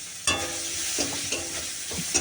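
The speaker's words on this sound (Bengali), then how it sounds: "কড়াইতে একটু তেল দিয়েছি আবার দিয়ে যে পেঁয়াজটা দিয়ে দিলাম" Onions sizzle loudly in hot oil in a wok, where fish was fried a moment earlier, giving a steady broadband hiss with a few scraping stirs from a spoon. No one speaks.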